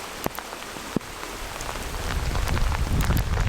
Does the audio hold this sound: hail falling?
yes